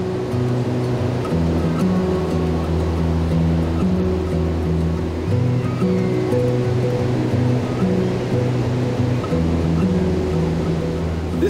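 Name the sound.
ocean waves at La Jolla Beach, San Diego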